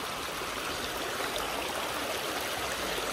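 Floodwater rushes down from upstream after a landslide at a village riverside where a channel bridge is blocked, a dense, continuous roar of turbulent water filling the whole short stretch with no voices.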